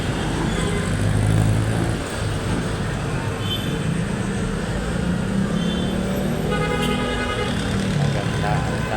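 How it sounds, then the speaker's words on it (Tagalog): Evening traffic moving through Quiapo, Manila: a continuous wash of car and bus engines and tyre rumble passing nearby, with occasional horn-like tones and faint background voices. "Magandang daloy ng mga sasakyan guys."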